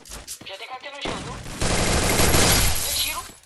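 Rapid bursts of automatic gunfire in a Free Fire match, dense and loud, building into sustained firing in the second half; a voice speaks briefly near the start.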